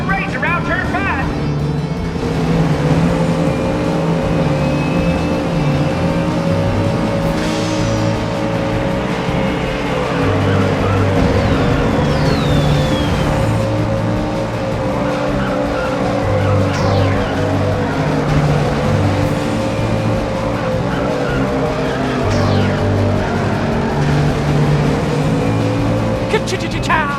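Race cars in the video game Cars Race-O-Rama roar steadily with droning engines and occasional tire squeals, while a voice talks over the continuous racing noise throughout.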